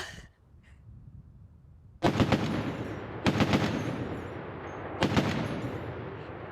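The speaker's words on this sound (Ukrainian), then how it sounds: "Ось так виглядає турецький кулемет Канік." A Turkish Canik machine gun fires three short, loud bursts of rapid shots outdoors, each burst with a ringing tail, after a quiet lead-in.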